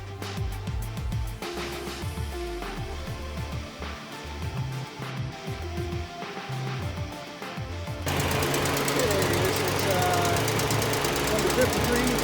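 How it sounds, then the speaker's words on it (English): A five-cylinder Audi engine runs at an auction with a slight misfire, a steady knocking idle heard up close, with a louder, broader rush of noise over the last few seconds. "I think I do detect a slight misfire there."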